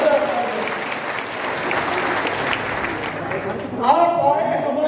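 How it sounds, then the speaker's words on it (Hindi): A crowd at a Hardoi stop of a political rally gives loud applause to welcome arriving guests. The dense clapping mixes with crowd noise, then tapers as an amplified voice begins near the end. "अरे अतिथि आए हैं, जरा जोरदार तालियां, जरा जोरदार तालियां"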